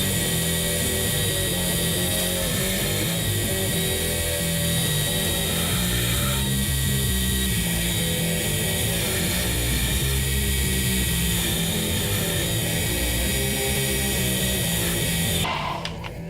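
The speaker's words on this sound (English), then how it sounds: "back to grinding." Stainless steel knife bolsters being ground on a power grinder: a loud, continuous, high-pitched grinding whine that holds steady for about fifteen seconds, then cuts off abruptly near the end, with no talk.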